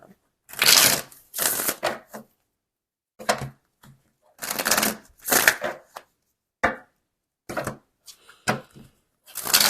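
Tarot and oracle cards, including an animal spirit deck and crystal guidance cards, are shuffled in crisp, close riffling bursts separated by brief silences.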